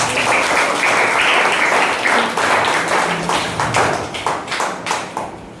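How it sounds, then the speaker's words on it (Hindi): A congregation at a Christian faith gathering breaks into loud, dense applause with hands raised, the clapping filling the room before thinning into scattered separate claps toward the end. "जो लोग खुश है दोनों हाथों को उठाकर ताली बजाएंगे।"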